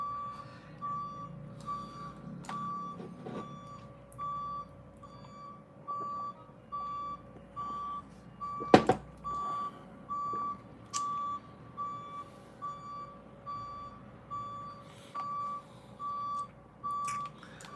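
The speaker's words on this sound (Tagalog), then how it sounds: "May mga umatras na truck." Trucks backing up outdoors, their reversing alarms beeping in an even, repeating rhythm at a moderate distance throughout, with one brief louder knock partway through and no speech.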